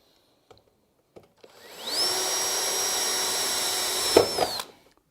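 A power drill with a 3.5mm steel bit bores clearance holes through galvanised steel sheet for a planter box, spinning up to a steady high whine for about two seconds, then winding down with a brief clunk, with no talk.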